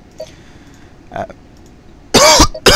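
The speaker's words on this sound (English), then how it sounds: "I'm really fighting the urge to cough now" A person coughs during a gaming session, two harsh bursts near the end after a quieter throat sound, close to a headset microphone.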